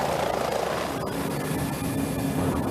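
Helicopter flying over polar shipping lanes, its steady rotor and engine drone continuous and moderately loud, with no voices.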